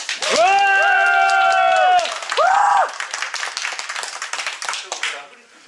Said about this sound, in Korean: 이 박수 함성은 그 크기에 비례해서 본인의 기분이 바로 좋아집니다.